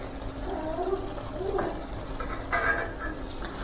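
Water is poured into a crab masala gravy, a soft, faint trickle and splash with a couple of brief louder gushes.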